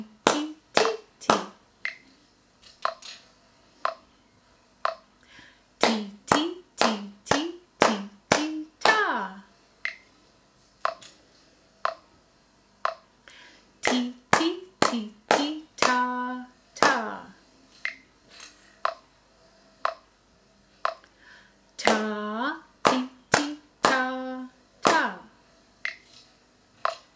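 Hands clap out ta and titi rhythm patterns in sharp, close, dry claps, grouped into short phrases of quick pairs and single beats separated by brief pauses, with a sung or spoken voice and a few faint tones between some groups.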